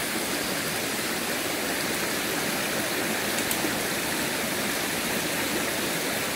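A small mountain stream on Jangsan near Haeundae flows at night with a steady, even rush of water, close and unbroken, with no voices.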